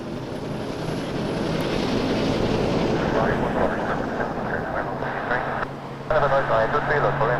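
An airliner takes off from runway 23 at Toronto Pearson Airport at night, a broad continuous engine roar that holds steady throughout, with a faint high whine and radio voices mixed in.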